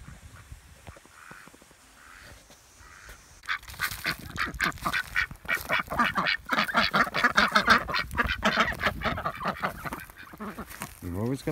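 Ducks quack and honk in a busy, close cluster of repeated calls that grows louder midway, while a person talks over the birds.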